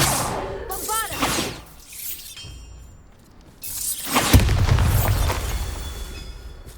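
The Bombarda blasting spell in Hogwarts Legacy sets off a loud booming explosion with a shattering burst and a rumbling tail. Earlier cracks and whooshing sweeps come before it, and a voice speaks over part of it.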